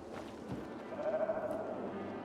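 A zombie sheep in the video game Dying Light 2 gives a single wavering bleat, fairly close, over a low game ambience.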